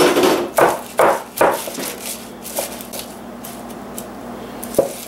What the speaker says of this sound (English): Now I will take some of the arugula, which I've already washed, and we'll chop that up into smaller segments